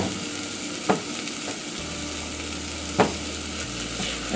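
Onions and garlic frying in a pan as the base for a tomato sauce, a steady soft sizzle with two or three sharper stirring scrapes, close and continuous with no talking.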